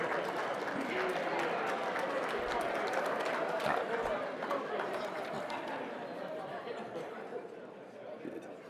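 Steady crowd applause and cheering at a Dinesh D'Souza talk fills the whole stretch, dense and continuous, gradually easing off toward the end.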